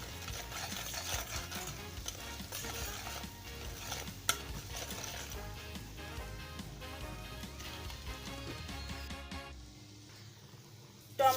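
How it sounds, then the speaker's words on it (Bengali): Spice masala being sautéed and stirred in a pan for a stuffed papad jhaal recipe, a soft steady sizzle with scraping stirs and light utensil clinks, ending in a sharp clatter. "ভালো করে মশলাটা কষিয়ে নিই।"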